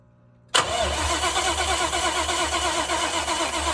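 Close, loud starter cranking: a Cobra's engine churns rhythmically for several seconds after a sudden start but never fires up.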